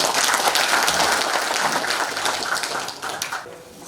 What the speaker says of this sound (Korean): 최고의 권위학자인 최영선 교수를 큰 박수로 좀 맞이해 주세요